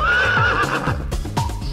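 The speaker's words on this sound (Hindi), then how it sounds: "हिन हिन करता घोड़ा भागे," A horse gives a long, high, wavering whinny up close, followed by a few hollow clip-clop hoofbeats.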